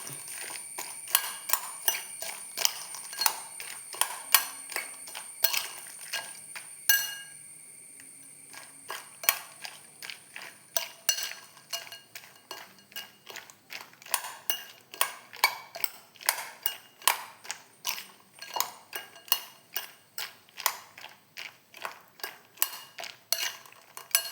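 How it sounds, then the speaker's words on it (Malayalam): Egg and peanuts mixed in a bowl, with a steady stream of light clinks and scrapes of a spoon against the bowl. It is quiet and close, with a brief pause partway through. "ഈ മുട്ടയും കടലയും എല്ലാം കൂടി നമുക്ക് മിക്സ് ചെയ്യണം"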